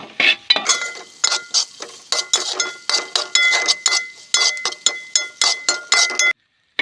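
Metal utensil clinks rapidly and repeatedly against a pan while green chillies sauté, a bright, close, rhythmic tapping with short pauses between bursts.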